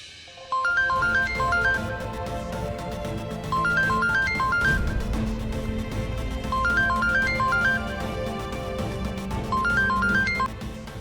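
A phone ringtone plays a repeating melodic pattern four times, each cycle clear and moderately loud, and nobody answers it or speaks.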